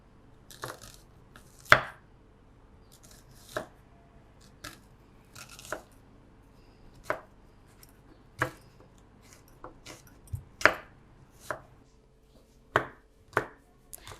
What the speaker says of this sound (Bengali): এখানে আমি 7টা বড় সাইজের পেঁয়াজ কেটে নেব